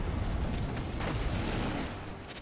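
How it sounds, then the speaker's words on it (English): A turret being destroyed in League of Legends, heard as a dense rumbling boom and crackling impact that lingers loud for a couple of seconds before easing, with a faint high chime at the end. "Red team's turret has been destroyed."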